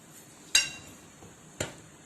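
Two sharp clinks of a utensil against a bowl while cheese ingredients are mixed for cheese Maggi noodles, spaced about a second apart, close and fairly quiet, with no talking.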